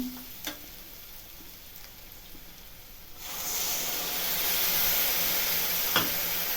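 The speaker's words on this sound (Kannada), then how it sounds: "ಈರುಳ್ಳಿ ಚೆನ್ನಾಗಿ ಫ್ರೈ ಆಗಿದೆ ಇವಾಗ ಹುಣಸೆ ಹುಳಿ ಹಾಕ್ತಾ ಇದ್ದೀನಿ" Onions and green chillies frying in oil for a tamarind gojju, with a soft low sizzle that swells into a louder, steady hiss once tamarind goes into the pan, plus a couple of faint clicks.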